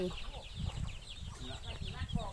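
Chickens clucking close by in a rural Lao setting, a busy cluster of short overlapping clucks and chirps over a soft background.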